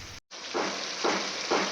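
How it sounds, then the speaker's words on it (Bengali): Mutton pieces frying in oil during a Bengali kosha, with raw papaya and potato to follow, give off a loud steady sizzle that swells in brief stirring bursts after a momentary dropout. "মাটনটা প্রায় কষেই গেছে, তেল ছাড়া শুরু হয়ে গেছে সাইড সাইড দিয়ে"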